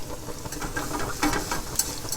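Garlic and red pepper fry in olive oil in a pan, a quiet, steady sizzle and hiss with faint stirring clicks and small pops scattered through.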